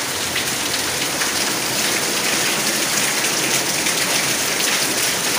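Heavy rain pouring down in a steady, dense hiss, loud and unbroken throughout with no voices.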